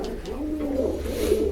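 Pigeons in a loft in Kerala coo softly and steadily, overlapping low throaty calls close by, with a faint hum in the background.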